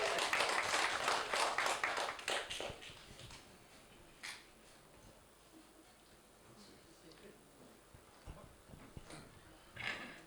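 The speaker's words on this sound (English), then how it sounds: "Give him a round of applause." Applause from an audience at a poetry reading, a dense burst of clapping for the first few seconds that thins out into scattered claps and crowd murmur.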